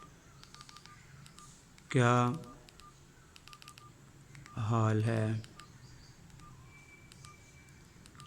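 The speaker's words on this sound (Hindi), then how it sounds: "इस पर मैसेज टाइपिंग की स्पीड चेक करते हैं कैसी है" A Nokia 106 (2018) keypad gives short electronic beeps as keys are pressed quickly to type a message, close and clear, with someone speaking twice between the tones.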